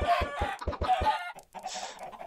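Minecraft chickens cluck in a quick run of short repeated clucks, followed by a softer trailing bird call, fairly close and alone without speech.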